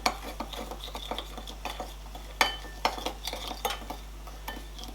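Vegetable oil and seasoning mixed for baked tilapia, a spoon clinking and scraping against a bowl in quick irregular taps, close and fairly quiet over a constant low hum, no talking.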